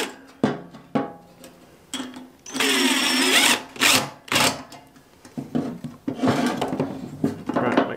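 A cordless drill whirs in several short bursts with brief pauses between, close by, with one longer sustained run in the middle, during exhaust tubing work.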